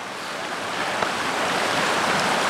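Stream water on a hiking trail rushes in a steady, broadband wash, close and fairly loud, unbroken across the whole stretch with no voices.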